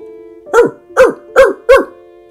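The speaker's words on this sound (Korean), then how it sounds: "파트라슈는 네로를 안심시키려는 듯 더 큰 소리로 짖었어요." A dog barks loudly four times in an even rhythm, each bark sharp and close, with short quiet gaps between.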